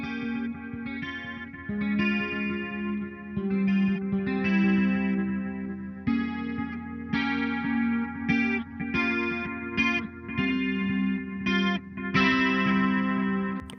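A heavy 8-string electric guitar is played through a Victory Kraken V4 amp with a chorus effect, giving a loud, distorted, sustained tone with palm-muted chugs and ringing chords, no voices.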